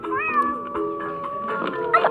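A kitten in the video game Cat Simulator gives a drawn-out, wavering meow, then a few shorter mewing calls. The calls are close and fairly loud over faint game background sound.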